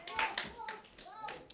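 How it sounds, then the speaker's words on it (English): Church congregation clapping hands during a lively service, a few sharp claps standing out amid overlapping voices and singing-like talk close by. "Clap your hands."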